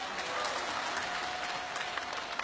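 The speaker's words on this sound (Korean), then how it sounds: "박수 한번 부탁합니다." Studio audience clapping on a Korean quiz show, a steady even wash of applause at moderate level for the full stretch, with a faint tone running beneath.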